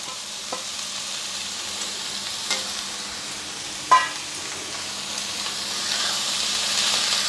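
Sliced onions fry in a pan for a carrot and fresh coconut stir-fry, with a constant soft sizzle, occasional spoon clinks and a hiss that swells toward the end.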